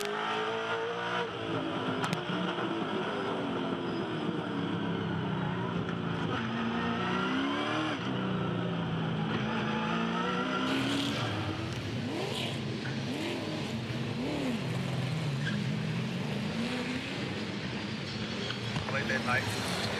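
Touring race cars roar around a wet street circuit at Sydney Olympic Park, engines rising and falling as they accelerate and pass, with occasional tire squeal, under continuous commentary from a race announcer.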